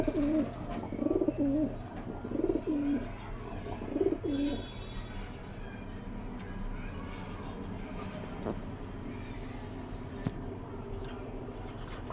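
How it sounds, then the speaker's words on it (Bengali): Two pairs of caged pigeons coo close by in low, repeated throaty calls for a few seconds, then only faint background sounds remain. "এখানে দুই জোড়া কবুতর আছে দুইটা খাঁচাতে কবুতরগুলো ডাকতেছে শুনুন"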